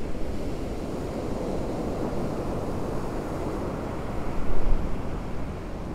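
Heavy storm surge waves from Hurricane Milton pound a seawall in a continuous roaring wash, with strong wind noise and a louder surge of crashing water near the end.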